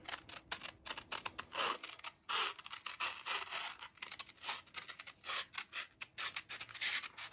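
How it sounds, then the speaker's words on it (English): Crisp snipping and scratchy rubbing of scissors cutting the top edge of sublimation graduation stole fabric, a steady run of close cuts with short pauses, no voices. "And we're gonna use scissors for a little more precision than normal."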